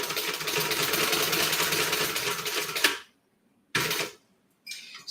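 A sewing machine stitches a crossbody bag in a fast, steady whirring run that stops abruptly, followed by two short further bursts of stitching separated by silence.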